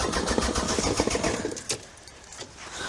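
A car engine cranks over after a jump-start with cables, a rough, rhythmic cranking at close range that fades into a quieter hum.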